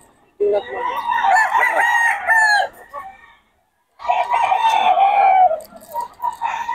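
A rooster crows loudly nearby, two long drawn-out calls with a short gap between them.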